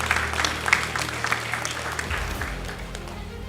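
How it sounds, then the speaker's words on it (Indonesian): Audience applause at a graduation ceremony for diploma graduates at STPN: a sustained wash of clapping from a large crowd, fairly loud at first and easing off toward the end, with low rumble beneath. "Tepuk tangan untuk kita semuanya."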